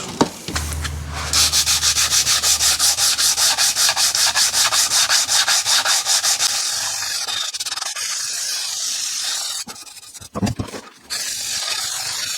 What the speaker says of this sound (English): Got to sand on that a little bit.